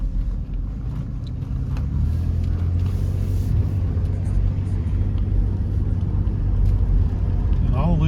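A car drives along a rural road toward a cemetery lane, with a steady low engine rumble and road noise heard from inside the cabin. Someone talks over it throughout.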